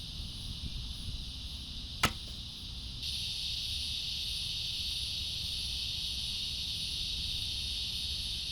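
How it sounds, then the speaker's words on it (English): Cicadas drone steadily outdoors on a hot day, a loud continuous high buzz that swells in after a few seconds and holds, over low traffic rumble from trucks, with one sharp click near the start. "Loud trucks and cicadas."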